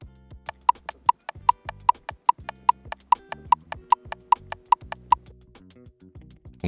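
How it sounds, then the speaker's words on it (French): Rapid, evenly spaced clicks of a faulty car turn signal flashing too fast, about a dozen sharp ticks in a steady quick rhythm, close and clear over a faint low hum, with no talking. "Et maintenant, voici le son d'un clignotant en panne."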